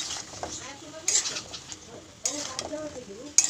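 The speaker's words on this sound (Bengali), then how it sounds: "কষাচ্ছি সুন্দর করে" Bottle gourd sautéing in spices in a pan gives a soft, continuous sizzle, with sharp scraping stirs at roughly one-second intervals and faint clinks of a spoon on metal.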